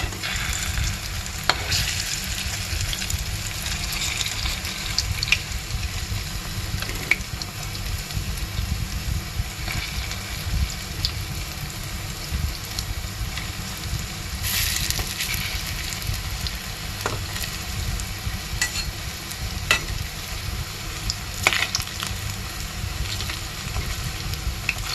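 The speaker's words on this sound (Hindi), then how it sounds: "इसको गोल्डन फ्राई कर लेना है।" Vadi fry golden in a pan with a steady, continuous sizzle and crackle that carries on without a break. Small pops and light scrapes sound now and then.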